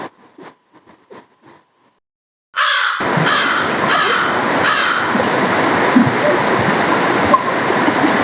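A few faint taps, a short silence, then a loud, steady rush of a low river flowing near a bridge and check dam, continuing to the end, close and dense.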